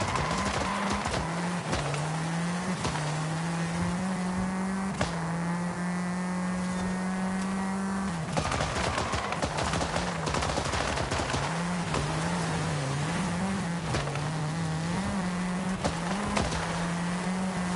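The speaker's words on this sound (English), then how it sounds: "This thing does backfire a lot." Forza Horizon 5 race car engine droning steadily with a loud, continuous drive tone, punctuated by repeated sharp popping backfire cracks, especially on lifts around the midpoint.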